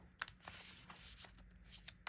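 A deck of One Piece trading cards being shuffled by hand, with quick papery riffles and rubbing bursts repeating through the short stretch at low, close volume.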